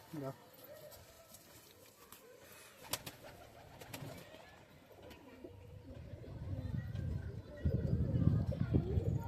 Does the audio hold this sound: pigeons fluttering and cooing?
yes